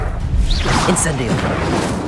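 A fire spell cast in the Hogwarts Legacy video game lets out a brief rising magical whoosh over a dense, steady bed of game effects, with a voice speaking over it.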